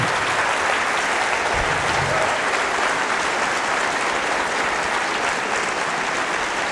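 A debate audience gives long, sustained applause after a speech, a dense steady wash of clapping that fills the whole stretch at full loudness with no talk over it.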